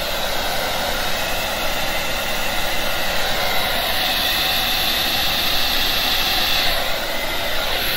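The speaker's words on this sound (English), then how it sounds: "now I got my handy dandy Revlon hair dryer. I'm going to put it on low" A Revlon hair dryer set on low blows a steady, close airy roar with a constant whooshing hiss that barely varies, used to push alcohol ink around to make smoke effects.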